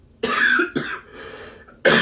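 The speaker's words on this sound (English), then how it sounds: "Still trying to get over that cough." Three harsh coughs from one person close by, two in quick succession and a third after a short pause, with no speech between them.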